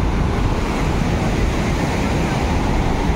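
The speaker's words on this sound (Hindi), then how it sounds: "केते बड़ लहड़ी" Big ocean waves crash and roar continuously on the beach at Puri, loud and close, with wind noise buffeting the microphone throughout.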